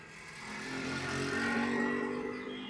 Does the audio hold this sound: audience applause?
no